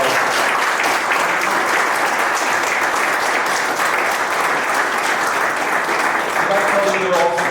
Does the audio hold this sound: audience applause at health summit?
yes